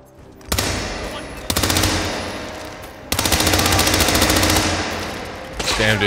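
Loud bursts of automatic gunfire in Hitman 2, fired in several long sustained volleys with short gaps, close and dominant with no talk over it.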